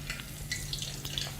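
Wontons frying in hot oil give a steady, faint broadband sizzle with scattered bright crackles and pops throughout, no voices over it.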